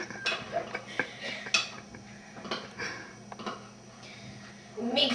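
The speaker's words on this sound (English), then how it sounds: "Mix it all together." Utensils clink and scrape against a dish while food with sour cream is mixed together in a home kitchen, giving a run of close, irregular taps and rattles with a few louder knocks and a soft voice underneath.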